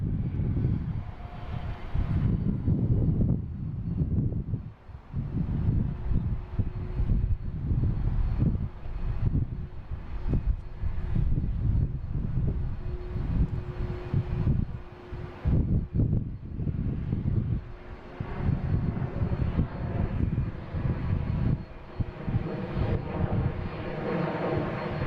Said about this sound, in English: next taking off, United Airlines heading to Newark. 737, flight